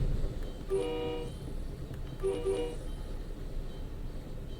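An MBTA commuter train horn on the Boston to Worcester line sounds two faint, distant blasts over a low, steady rail rumble.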